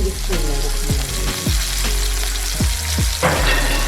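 Chopped tomatoes and garlic cloves fry in a pan for tomato chutney, giving a steady close sizzle broken by several soft clunks and stirring knocks.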